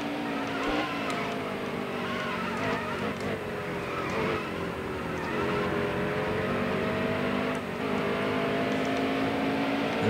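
Race cars in the NASCAR Heat Evolution video game roar through the final lap at New Hampshire, with layered engine whines rising and falling, tire squeal and skids, sustained and moderately loud.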